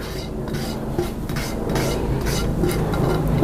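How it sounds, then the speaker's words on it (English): A small rubber spatula scraping a liquidy sugar, cinnamon and vanilla mixture onto sliced apples in a bowl for an apple brown betty dessert, a close, continuous wet scraping and stirring. "what we need this little rubber spatula for is we want to make sure we get all of this liquidy sugar, cinnamon, vanilla mixture onto the apples"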